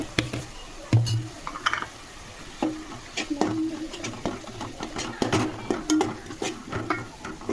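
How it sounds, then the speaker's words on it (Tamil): Tomato-onion paste with chilli and masala powder being sautéed for fish curry, steady stirring and scraping of a spoon in a pan with soft sizzling, repeated clinks and taps throughout. "இந்த விழுதோடையே நல்லா மசாலா பொடி போட்டு நல்லா வதக்கணும்."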